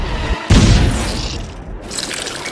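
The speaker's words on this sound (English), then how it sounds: "Ready to rehearse the cannon, Buzz?" A cartoon cannon fires with a sudden loud boom followed by a rumbling, crackling blast that slowly fades, with no talking over it.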